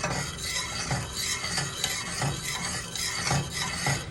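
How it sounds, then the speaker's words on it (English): A spoon steadily stirs chocolate ganache in a pan as the last of the butter melts in, giving soft repeated scraping and swishing strokes at close range, with no voices. "So we stir and stir and stir."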